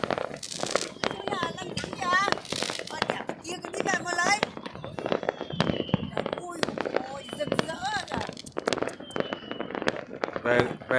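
Village fireworks in Thạch Sơn, Lâm Thao, Vietnam, burst in a dense, continuous barrage of crackles and pops, with people talking and shouting over the display throughout.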